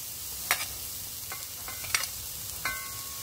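Garlic sizzling in a pan as it is stir-fried, a soft constant hiss of frying punctuated by several sharp scrapes and clinks of a utensil against the pan, close up, with no voices.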